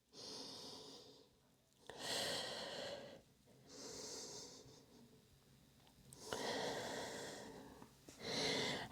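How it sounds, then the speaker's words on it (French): Slow, deep breaths from a person resting in Pilates child's pose, arms stretched forward: several long, airy inhales and exhales alternate in an unhurried rhythm, close and soft, with no talking. "Et prends quelques respirations ici."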